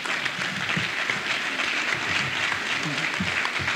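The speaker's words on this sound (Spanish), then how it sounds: "un fuerte aplauso" An audience applauds at a Spanish-language testimony event, with dense, steady clapping filling the whole stretch, fairly close and loud, and faint crowd murmur beneath.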